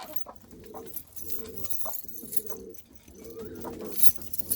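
Pigeons cooing in a breeding loft, repeated low throaty coos in rhythmic bursts close by, with faint rustling and an occasional high chirp.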